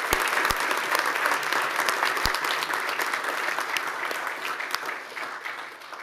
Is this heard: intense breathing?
no